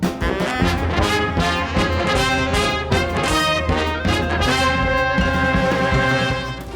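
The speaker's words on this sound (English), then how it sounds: "You know that song, The Ride of the Valkyries? It sounds like this." Music from the Cuphead video game plays a brassy orchestral jingle in the style of Ride of the Valkyries, loud and continuous with a driving rhythm and no voices.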